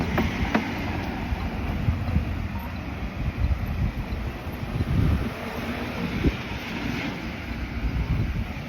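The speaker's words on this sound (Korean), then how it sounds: "이거 시원한 바람이 부네요" Steady cool wind roars across the microphone while riding outdoors along a bumpy sidewalk, a continuous broadband rush with gusty swells and no voices.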